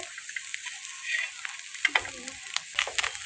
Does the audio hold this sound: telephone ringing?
no